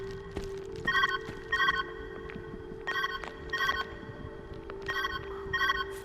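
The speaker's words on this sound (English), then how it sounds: "Where's that ringing coming from?" Telephone ringing in a video game, sounding in repeated paired bursts of bright trilling rings with short pauses between, over a steady low hum and faint background noise.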